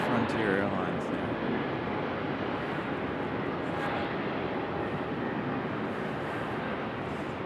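Frontier Airlines jet taxiing out at Raleigh-Durham airport, a low, steady engine rumble sustained throughout at moderate distance, with some wind-like noise mixed in.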